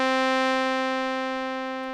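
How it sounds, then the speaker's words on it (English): A sustained FM synth tone from a Liven Mega Synthesis, rich in even harmonics, rings out alone and fades slowly over two seconds, trailing off in a long smooth release. "we get nice long tails."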